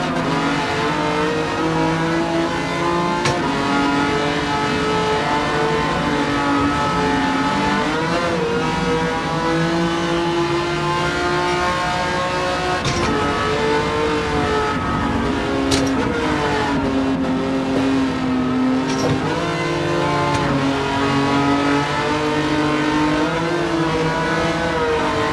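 A race car engine in Gran Turismo 7 drones loud and steady throughout, its pitch rising and sagging as it bogs down and strains to pull, with no talking over it.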